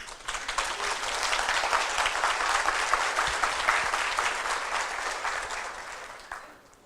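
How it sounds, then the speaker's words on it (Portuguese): A congress audience applauds steadily for several seconds, a dense, even wash of many hands clapping that fades toward the end. "depois eu queria que vocês botassem esse aplauso assim ampliado"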